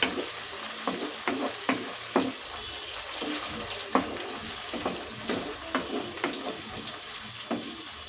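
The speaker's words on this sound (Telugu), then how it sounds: "రొయ్యలు వేగుతుంది కదా" Dried prawns frying in hot oil in a pan while being stirred, with sizzling and a steady series of scraping strokes roughly every half second, up close and alone with no talk.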